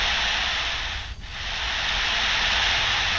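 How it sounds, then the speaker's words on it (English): Airframe wind sound from the FSRealistic Pro add-on for Microsoft Flight Simulator 2020: a steady, loud broadband rushing hiss that dips briefly about a second in, then holds constant. "This is airframe wind, and you can see there's multiple choices."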